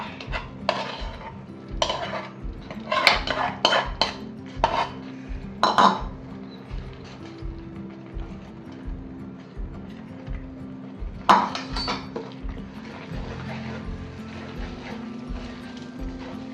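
Mava is stirred into an adadiya pak mixture in a pan, with clinking and scraping of a utensil against metal in irregular bursts, close by and moderately loud, with no voices.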